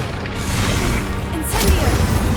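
Spellcasting in Hogwarts Legacy: Incendio, Expelliarmus and Accio, heard as crashing impacts and swishes over a dense game backdrop, with a sharper burst near the end.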